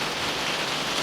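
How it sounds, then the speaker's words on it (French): Rain falls steadily, heard from inside a veranda: a dense, even hiss of drops striking the surface, close and moderately loud, with no other sound. "là j'ai la pluie, je suis dans une véranda"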